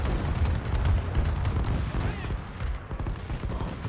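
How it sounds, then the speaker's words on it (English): Bombing-run explosions in Call of Duty: Advanced Warfare, rendered as a dense, continuous roll of heavy booms and rumbling blasts that stays loud for the whole stretch. "Why can a bombing run kill people indoors?"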